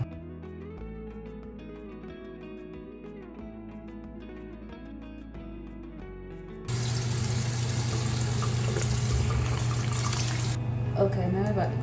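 Tap water runs into a bathroom sink as skin cleanser is rinsed off. The water starts partway through, a loud, steady close splash that masks a faint hum and light background sounds.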